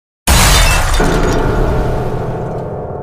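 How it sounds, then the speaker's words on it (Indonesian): A television set shatters and breaks with a sudden loud crash, and glass debris rings on as a long, fading clatter. "Kenapa TV-nya tiba-tiba pecah ya?"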